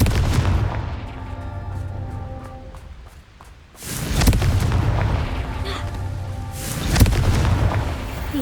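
Loud, booming explosions from the Confringo fire spell in the video game Hogwarts Legacy, one burst early, a brief lull, then two more heavy blasts with rumbling tails and no talking.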